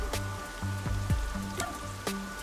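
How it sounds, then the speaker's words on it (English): Rain falls steadily in the video game Master Detective Archives: Rain Code, with a soft patter of drops over a low musical background and repeated bright plinking accents. "The rain just won't stop, huh?"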